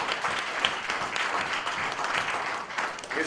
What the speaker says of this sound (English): His brilliance, you can applaud for that.